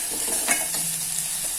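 Palak paneer ingredients sautéing and being stirred in hot oil, a steady close sizzle with soft scraping movements and a brief louder stir near the middle; no one speaks.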